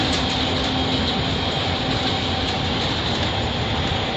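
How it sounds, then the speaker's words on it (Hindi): A passenger train on the Gandhidham–Palanpur railway line in India rolls steadily along the rails with a dense, continuous rumble and rattle, heard close up with no pauses. "उन सब के ऊपर ये रुकते रुकते जाती है पैसेंजर ट्रेन"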